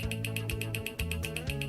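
The ionizer on an ionic steam hair setter gives off rapid, regular clicking with a faint electrical hum beneath it. The sound is quiet and close-up, and it repeats steadily about twice per second with no voices.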